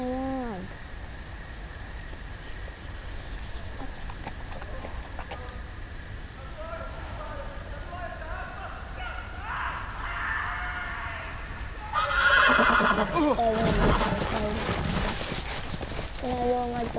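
Horse in a Game of Thrones video game, with a neigh and hoof clip-clops mixed into a busy game soundscape, louder toward the end, while a voice talks over it.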